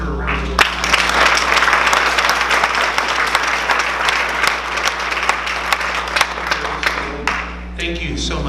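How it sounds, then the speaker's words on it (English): Sustained audience applause at a community mental health forum in a public library, many hands clapping densely and loudly for several seconds before tapering off near the end. "Can we give her a round of applause?"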